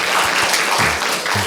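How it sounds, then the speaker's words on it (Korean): A church congregation claps in welcome during Sunday worship, a brief, fairly loud wash of many hands with low murmuring voices underneath. "우리 마음을 모아서 같이 박수로 우리 보시도록 하겠습니다"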